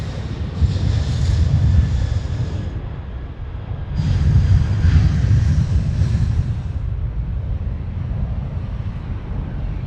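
A Qantas A330 airliner taking off at Sydney Airport, heard as a loud, low engine roar that swells, eases, then surges again with wind buffeting the microphone, no talking.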